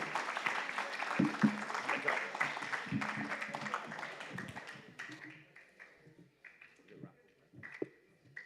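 An audience at a student event applauds the day's speakers, a burst of clapping that is strongest at first and thins out to scattered claps, with voices talking over and after it.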